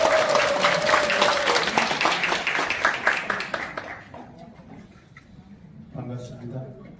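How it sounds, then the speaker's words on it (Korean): A seated audience at a political youth forum applauds in a dense burst of clapping that thins out after about four seconds, followed by scattered sounds and a brief voice near the end. "큰 박수 부탁드리겠습니다."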